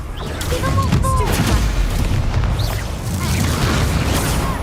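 A Confringo fire spell blasts in the wizarding game Hogwarts Legacy: loud booming bursts and crackling impacts in quick succession over dense battle noise, with a shouted spell name and scattered game effects.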